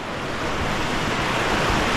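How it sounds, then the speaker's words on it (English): A roaring creek rushes below a log crossing in Arkansas, a loud, broad, continuous roar of churning water filling the space close by. "crawling on this log above the roaring river down here"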